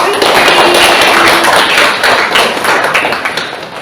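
A classroom full of students applauds during a teacher-training lesson: loud, dense, continuous clapping from many hands nearby, steady for several seconds before gradually thinning out.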